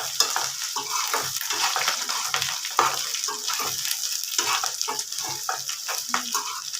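Red chili powder frying in oil for a prawn pickle, a steady close sizzle with bubbling and occasional stirring scrapes, heard alone without voices.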